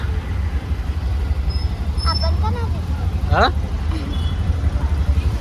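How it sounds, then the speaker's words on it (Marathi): Heavy Pune road traffic rumbles steadily around a moving auto-rickshaw, with a low engine drone, a couple of brief horn-like tones and close chatter over it. "तिकडे पुण्यात ट्रॉफिक बघा फुल आहे"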